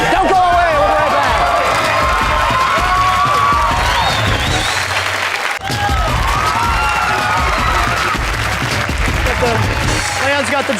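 Studio audience at a comedy game show applauding and cheering loudly and continuously, with whoops and shouts riding over steady clapping for about eleven seconds, a brief dip midway.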